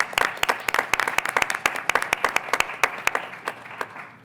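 A lecture-series audience applauds at a 100th-anniversary event, with many hands clapping in dense, uneven bursts that hold steady and then thin out slightly.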